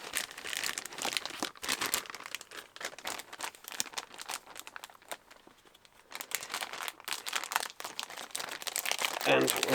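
Crinkly plastic packaging around a Doctor Who Dalek partwork magazine issue is pulled open by hand, giving continuous close crackling and crumpling with brief pauses.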